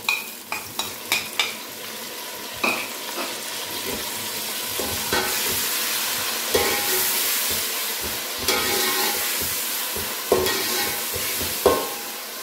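Chilli, salt and tomato fry lightly in oil for chicken yakhni pulao, a continuous close sizzle punctuated by repeated clinks and scrapes of a spoon against the pot.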